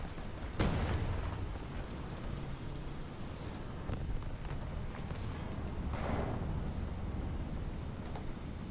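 A bomb blast in the War Thunder tank game bursts in loudly near the start, followed by a long rumbling roar of noise and a second swelling blast later, with no speech.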